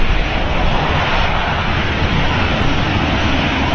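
Jet airliner engines spooling up at Manchester Airport, a loud, steady broadband roar that holds without a break from start to finish, close by and with no voices over it.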